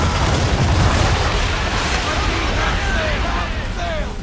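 Naval battle in Assassin's Creed III at Chesapeake Bay, with dense booming ship cannon fire and crackling explosions rolling on loudly throughout, mixed with game shouts.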